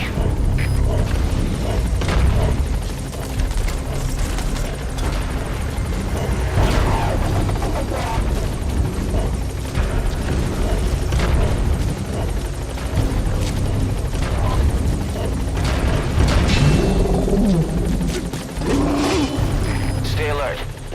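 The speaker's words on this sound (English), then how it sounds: "The chopper can't get close." Helicopter rotor in the Metal Gear video game, a steady loud churning drone running throughout with booming low-end, mixed with game music and effects while a voice talks over it.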